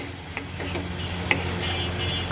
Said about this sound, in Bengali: এখন আমি এর মধ্যে দিয়ে দিলাম টমেটো টমেটোটা দিয়ে আমি খুব সুন্দর করে কষাবো কয়েক মিনিট